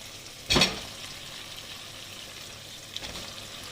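Brinjals added to a pan of softened tomatoes and curry leaves give a brief sharp sizzle, then a low steady frying hiss with a faint second stir near the end.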